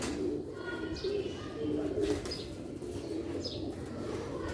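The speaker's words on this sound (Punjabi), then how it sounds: "ਪਿੰਜਰੇ ਵੱਡੇ ਦੇ ਵਿੱਚ ਹਾਈ ਲੈਵਲ ਦੇ ਪਰਿੰਦੇ ਨੇ ਮਾਸ਼ਾਅੱਲਾ।" Pigeons coo repeatedly inside a large cage, the soft throaty calls coming in several overlapping phrases at moderate distance, with a faint wing flutter and quiet background noise.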